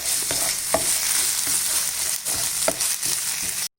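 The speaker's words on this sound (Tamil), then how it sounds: "இஞ்சி பூண்டு பேஸ்ட்டு வாசனை போகிற வரைக்கும் நல்லா கிளறி விட்டுக்கிடுங்க" Ginger garlic paste sizzles steadily in a hot pan while a spoon scrapes and stirs it, with a few sharp clicks over the continuous frying hiss.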